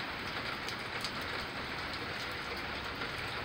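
Steady rain during a severe storm, a dense even hiss of drops on surfaces that holds constant and fairly faint throughout, with no voices.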